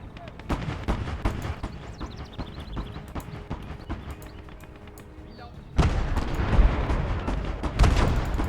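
Artillery shells firing in the Legion of the Damned war game, a dense run of repeated booming shots with rattling impacts that swells louder in the second half, a voice speaking underneath.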